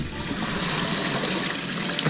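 Soaking water is drained off chicken feet being prepared for an Asian-style recipe, a steady close rush of pouring water running without a break.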